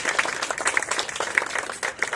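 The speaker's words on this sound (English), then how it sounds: "Come on, you can give yourselves some applause." A congregation at a Juneteenth gathering applauds itself, a continuous patter of many hands clapping at moderate loudness with no voices over it.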